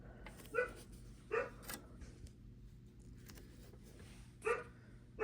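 A dog barks and yelps in the background of an indoor sewing session, four short sharp bursts spaced irregularly over steady low room noise.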